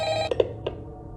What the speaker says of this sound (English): The anonymous phone guy rang again.